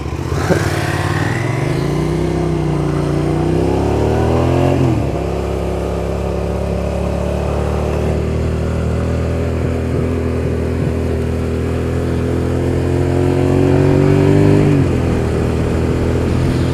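Suzuki SV650 motorcycle ridden at night, its engine droning steadily close to the mic with rising and falling revs, a brief throttle dip midway and a swell near the end, wind rush beneath.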